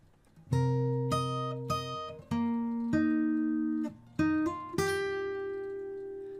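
Fingerstyle guitar plays a bar of a piece: a slow phrase of about seven plucked chords and notes, each ringing out and fading before the next, close and clear with no talking.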